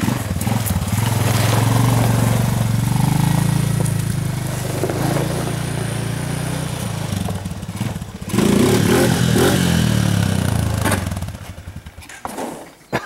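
A Honda 250EX quad four-wheeler engine revs hard and loud as the rider pulls a wheelie, the motor roaring steadily with a rattling edge before easing off near the end.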